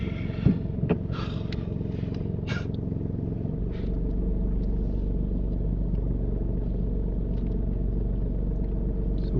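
A car engine rumbles steadily while driving, a close, continuous low drone with some clattering early on, no voices over it.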